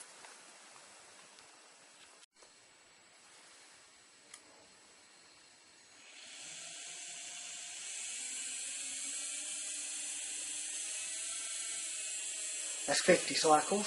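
A brushless induction motor spins up toward very high speed, a faint quiet start giving way to a rising, steady whine with layered tones that grows louder, while someone speaks briefly at the start and near the end.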